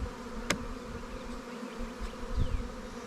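Honey bees during a hive inspection with capped brood and a laying queen, a steady low buzzing drone up close, with a few brief knocks and individual bees flying past.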